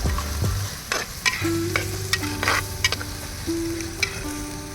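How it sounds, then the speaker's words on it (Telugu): Onions with ginger-garlic paste frying and being stirred in a pan, a close sizzle broken by sharp scraping and clanking strokes of the spoon, with a faint tonal whine running underneath. "ఆనియన్స్ అల్లం వెల్లుల్లిపాయ ముద్ద నూరుకున్నాం కదా ఇవన్నీ చక్కగా మిక్స్ అయిపోయి చక్కగా మగ్గుతున్నాయి"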